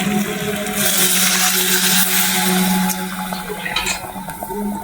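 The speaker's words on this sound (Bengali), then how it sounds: "আমি জল ঢেলে দেবো" Water poured into a hot kadai of goat mutton cooked without oil sets off a loud, steady sizzling hiss that eases into bubbling and scraping after a few seconds.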